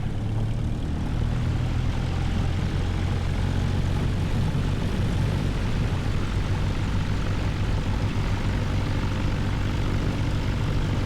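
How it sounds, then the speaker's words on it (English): Simulated Cessna 172R piston engine held at 1700 RPM for a run-up in Microsoft Flight Simulator 2024, a loud, steady propeller drone with a constant low hum and no change in pitch. "Throttle, let's go ahead and do our run up here, 1700 RPM."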